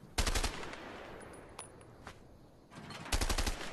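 Bursts of rapid automatic gunfire from the video game A Way Out, two loud rattling volleys at the start and end with scattered single shots between.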